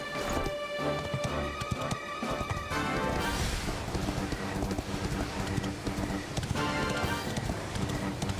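A horse's hooves clip-clop in a steady running rhythm in the Dragon Quest XI video game, continuous over game music with occasional thuds.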